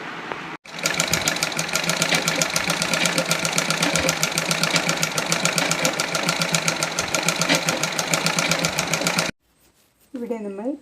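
A sewing machine stitches the side seam of girls' uniform pants, running in a steady rapid needle rhythm for several seconds before stopping abruptly, followed by a brief moment of near silence.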